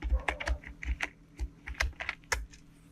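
Quick typing on a computer keyboard while entering a search in Google Chrome, a close series of sharp irregular key clicks and taps over about three seconds, with no voice.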